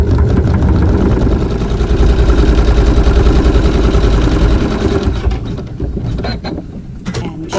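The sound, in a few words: sewing machine stitching a tack seam on fabric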